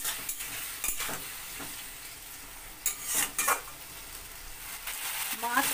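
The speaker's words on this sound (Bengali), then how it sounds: "মাছ আর মশলা আমার কষানো হয়ে গেছে।" Tangra fish frying with spices in a pan gives a quiet, close sizzle broken by scraping stirs and a few clinks of a utensil against the pan.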